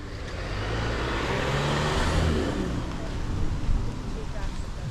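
Cars pass along a narrow lane lined with parked cars near Chichester Marina, a broad, close rumble of tyres and engine swelling in the middle and easing off, with people talking faintly nearby.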